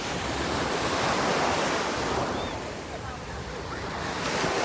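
Ocean waves break and wash steadily onto Haeundae beach in Busan, a loud, continuous roar of surf with some wind noise on the microphone that swells and eases slightly over a few seconds.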